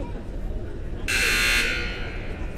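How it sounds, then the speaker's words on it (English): Electronic scoreboard buzzer at a junior varsity girls' high school basketball game, a single loud flat blast lasting about half a second over crowd murmur and commentary. "We've got the buzzer."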